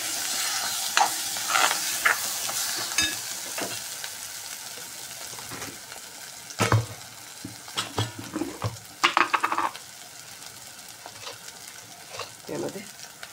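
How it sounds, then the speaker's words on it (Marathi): Raw tomato chutney with spices being stirred and fried in a pan, a steady soft sizzle under repeated scraping and clattering stirs that come in irregular bursts, close by with no talking. "तो जरा छान असं मिक्स करून घेणार आहोत."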